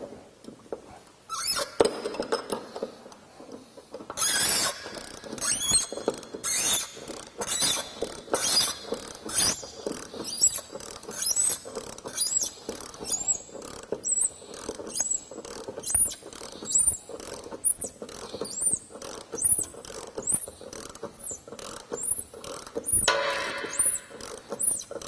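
An Allen wrench turns a bolt into a nut insert while fitting Jeep JK boatside rock sliders. Close, rapid metallic ticks and scrapes come in irregular runs, with short pauses, over nearly half a minute.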